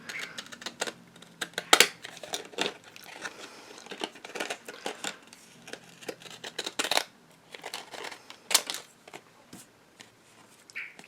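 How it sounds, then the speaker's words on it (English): Decal edge scissors cut through card paper in a run of short, crisp snips and rustles with brief pauses, close and fairly quiet, with no talking. "But I will start by cutting up the side with my decal edge scissors."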